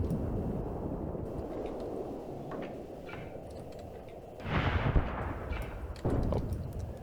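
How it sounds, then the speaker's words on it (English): Panzer III tank gunfire in the WWII game Tank Warfare Tunisia 1943, with two distant booming shots, one around the middle and another near the end, over a low continuous battlefield rumble. "Panzer III is engaging again."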